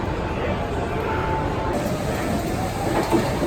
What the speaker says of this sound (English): Taito from Japan is showing off their train simulator game.